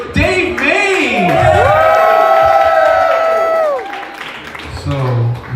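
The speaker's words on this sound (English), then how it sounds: "Everyone give a round of applause for Dave Mays!" A crowd bursts into loud cheering, whooping and applause, sustained for several seconds before fading as a voice begins.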